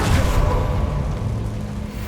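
A Bombarda explosion spell from the Hogwarts Legacy video game sets off a loud, low rumbling boom that hits at once and then rolls on with steady debris and noise, with no talk over it.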